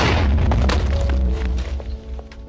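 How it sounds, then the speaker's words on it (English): Cannons firing and exploding in Minecraft: a heavy, loud rumbling boom with crackling debris, followed by scattered smaller blasts that gradually thin out and fade. "Let's just hope that these cannons that I'm about to fire don't hit them."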